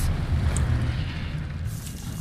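An Expelliarmus spell cast in a video game, heard as one loud, close, rumbling whoosh-and-boom burst that fills about two seconds and slowly thins out, with no voices.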